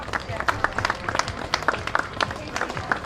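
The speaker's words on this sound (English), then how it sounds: "Let's give a big round of applause to Chief Paul Smith and the Littleton Police" Crowd applause at a Christmas parade in Littleton greets the police department, scattered outdoor clapping in quick bursts mixed with a voice talking over it.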